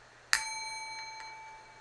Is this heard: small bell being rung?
yes